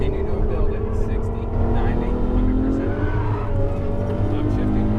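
Ferrari F12 accelerating hard on a race track, a loud close engine note climbing steadily in pitch through the gear, with an instructor talking over it.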